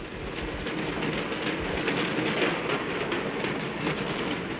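A train climbing steeply through Andean mountains toward a foggy plateau, a steady loud rumble of rolling wheels and carriage noise with faint rhythmic clatter throughout, no voices.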